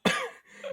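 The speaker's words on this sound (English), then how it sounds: "Just a single cough." One sharp cough sounds close up, a quick burst followed by a brief breathy tail.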